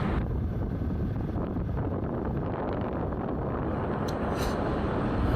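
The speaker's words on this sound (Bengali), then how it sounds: "রাস্তার দুপাশে খোলা থাকার কারণে প্রচণ্ড বাতাস" Strong wind buffets the microphone during a motorbike ride along a road open on both sides, a steady, loud, low roar with no let-up.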